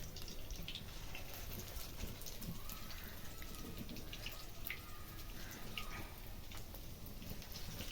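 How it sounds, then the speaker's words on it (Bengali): Lentil pakoras of ground masoor dal frying a few at a time in hot oil, a steady fine crackling sizzle with scattered pops, continuous and fairly even throughout. "অল্প অল্প করে ছেড়ে ভেজে নেবো"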